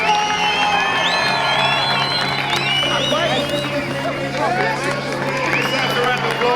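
A crowd at a car race event cheers and whoops for the winner, with lively shouts and babble rising over a steady background hum and voices talking through it.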